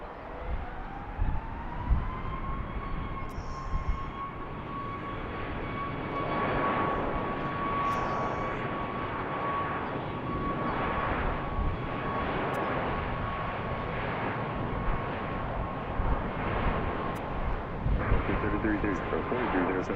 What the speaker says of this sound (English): Next Southwest taking off